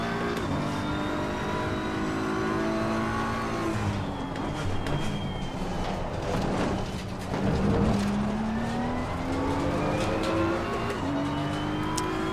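A race car engine on the Imola circuit in the racing game ACC, revving high and loud as it shifts through gears, with rising and falling pitch sweeps, a brief tire squeal and another car roaring nearby.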